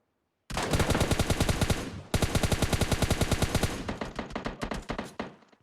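Rapid automatic gunfire in PUBG Mobile Lite on Erangel, loud close bursts of evenly spaced shots, a brief pause near two seconds, then continued fire tapering slightly toward the end.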